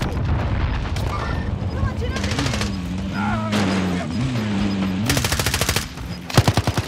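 Rapid automatic gunfire and heavy blasts from a Call of Duty Warzone match, bursts crackling in dense volleys throughout with sharp isolated shots near the end, loud and close.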